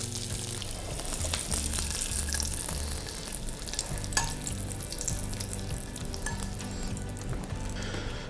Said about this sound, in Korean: 튀기듯이 맛있게 볶아주시고 샬롯도 확실하게 이렇게 색을 내주시는 게 좋습니다.